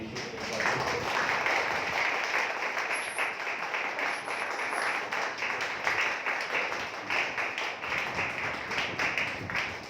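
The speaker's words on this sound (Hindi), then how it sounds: "आइए जोरदार ताली प्रभु यीशु के लिए" A church congregation at a Sunday meeting claps loudly together, a dense sustained burst of applause that holds for the whole stretch with a rhythmic patter in it, fading slightly at the end.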